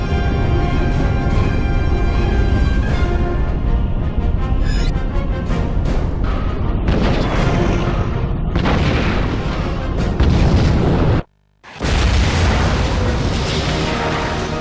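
Turret fire and explosions in 007: Everything or Nothing, heavy booms and bursts that roll on loudly and almost without a break, cut off briefly by a short silence before the blasts resume.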